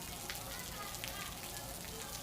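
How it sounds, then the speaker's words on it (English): Steady rain falls in Puerto Rico, a dense continuous hiss of drops on surfaces with even loudness throughout. "It has been raining for a few hours"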